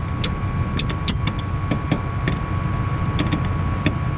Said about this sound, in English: that blower doesn't sound too hot